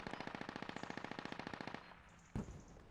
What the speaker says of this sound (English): we can hear that autocannon just in the distance peppering the Insurgents here